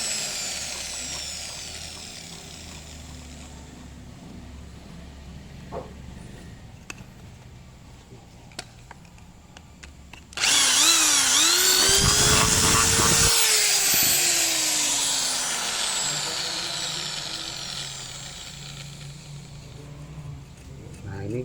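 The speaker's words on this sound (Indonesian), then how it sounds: "kemudian kita lakukan pengeboran sementara ya" A power drill with a 6 mm bit starts abruptly and whines loudly for several seconds, its pitch rising as it bores in, then continues more steadily after quieter background sounds.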